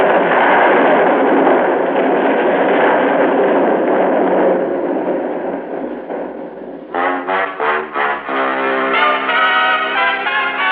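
A large explosion from a radio drama scene at a bulging building, a loud sustained roar with rumbling bursts that fades, followed by a run of sharper, rhythmic blasts or crashes near the end, with no voices.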